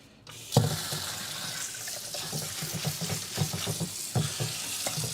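Water runs and splashes at a sink while something is washed in the Firewatch video game, a steady close gush with irregular clattering and sloshing bursts throughout, no voices.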